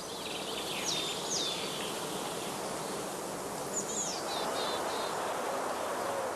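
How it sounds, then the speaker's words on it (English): Honey bees in spring buzzing around straw skep hives on grass, a dense continuous hum filling the air, with a few bird chirps above and no voices. "the bees are now busily collecting pollen and water"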